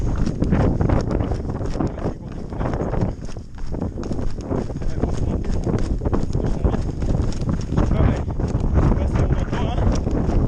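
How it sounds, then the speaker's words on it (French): Strong wind buffets the microphone on an exposed mountain plateau during the UTMB ultra-trail race, a continuous rough roar that gusts slightly but never lets up. "Encore un peu de vent."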